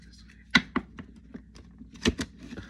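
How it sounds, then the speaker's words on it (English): Tarot cards are shuffled by hand, giving a handful of irregular, crisp taps and flicks at close range in a quiet room. "gonna shuffle this way"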